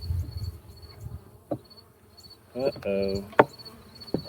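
Honey bees hum and buzz from an opened hive with empty frames during a nectar dearth, a steady insect drone under brief speech and a few handling knocks.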